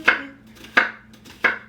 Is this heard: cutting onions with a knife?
yes